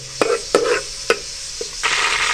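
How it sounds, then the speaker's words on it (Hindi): Cumin seeds and bay leaves sizzle in hot oil in a home kitchen pot while dal chana and zeera rice are being prepared, with several sharp clattering stirs and a steady frying hiss, close and fairly loud, no talking. "जीरा और तेज़पात शामिल करेंगे"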